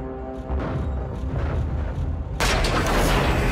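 Missile volley launched from a spacecraft in the video game Call of Duty: Infinite Warfare, a steady rumbling barrage that erupts into a louder, bright burst of launches partway through.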